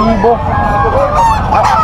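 Loud, close chicken squawks and calls overlap continuously at a poultry market, with bird noise filling the whole short stretch.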